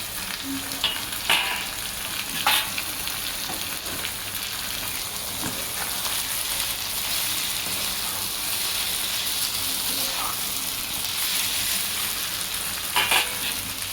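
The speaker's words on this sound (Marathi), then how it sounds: "आपण भाजी टाकून घेणार आहोत, पडवळची बारीक केलेली." Finely chopped snake gourd fries steadily in a pan, a continuous close sizzle broken by a few scraping stirs and spatula clicks, with no one talking.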